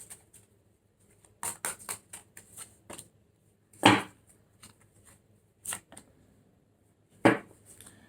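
Tarot cards are shuffled close by in quiet, irregular bursts of crisp flutters and sharp slaps, with short pauses between them and no talking.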